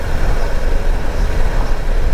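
Road traffic on a highway between Cambuquira and Lambari, with cars and trucks passing in a continuous, fairly loud low rumble and broadband road hiss, heard from inside or near a moving vehicle without talk.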